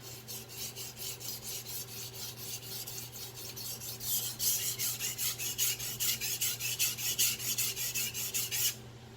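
A Victorinox 8-inch chef knife sharpened on a Chosera whetstone makes rhythmic back-and-forth rasping strokes, about three per second, close and clear, growing louder midway before stopping.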